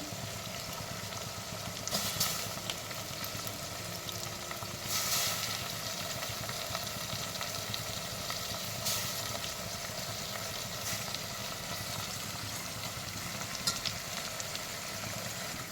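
Onions and tomatoes frying in a pan make a steady, soft, hissing sizzle that continues throughout, with a few brief brighter crackles and clinks standing out from the even background.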